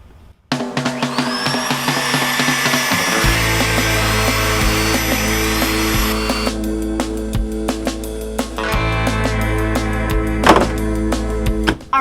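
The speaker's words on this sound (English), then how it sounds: "just put the wax on the buffing wheel so it like polishes it up" A buffing wheel loaded with wax polishes car parts, giving a steady loud motor whine with a low hum, broken by knocks and rubbing thumps as each part is pressed against the wheel, with no talk.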